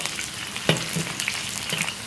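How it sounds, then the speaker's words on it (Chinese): Scallion, ginger, dried chili, Sichuan pepper and star anise stir-frying in hot oil in a wok, a soft steady sizzle broken by a few sharp spatula scrapes and pops. "锅里倒点油，加入葱姜、干辣椒、花椒、八角、"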